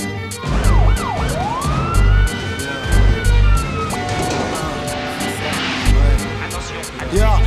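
Police siren effect in a French rap track, wailing and sweeping in pitch while the rest of the track plays, with a vocal talking over it and a steady beat throughout, loud and upfront.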